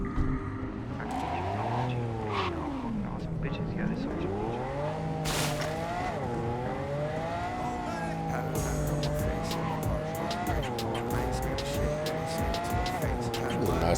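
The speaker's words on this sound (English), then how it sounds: "Ooh, nice car." Engine drone of a car in Cyberpunk 2077, its pitch swinging up and down as it is driven, with tire squeals and skids mixed in, steady and loud throughout with background game sounds.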